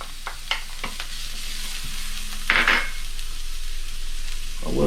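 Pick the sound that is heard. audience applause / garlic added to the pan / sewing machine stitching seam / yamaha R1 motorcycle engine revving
garlic added to the pan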